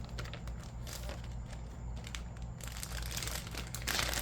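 Crinkling and crushing of a plastic bag, a steady rustle with scattered crackles, close by and continuous, growing a bit louder toward the end.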